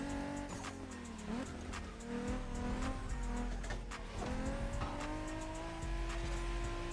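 Car tires skidding and squealing in The Crew Motorfest racing game, loud engine drone with rising and falling revs and repeated screeching slides, close and continuous.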